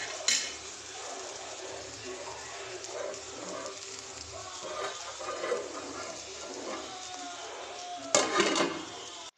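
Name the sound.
stirring bitter gourd with green chilli in a pan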